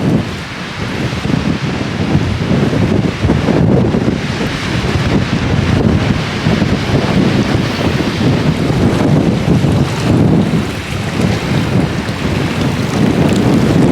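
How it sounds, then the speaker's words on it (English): Strong wind roars steadily and loudly by a lake shore, buffeting the microphone with deep rumbling gusts throughout. "It is quite windy."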